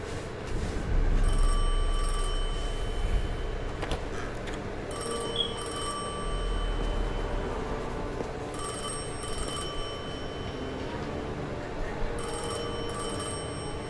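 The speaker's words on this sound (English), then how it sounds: "I felt the ringing more than I heard it." An old-style telephone bell rings in repeated bursts with short gaps in Destiny 2, its metallic trill sitting over a low ambient game drone and faint background rumble.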